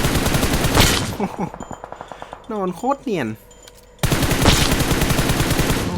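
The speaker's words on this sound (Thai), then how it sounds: "นี่ไงเจอเสียงปืนนี่ไงผมเจอละ" Gunfire in the PUBG Mobile video game: rapid bursts of shots at the start and again at the end, with a quieter gap between where a voice speaks briefly.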